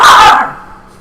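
A dog in Dark Souls lets out a single loud, close bark that fades out within half a second.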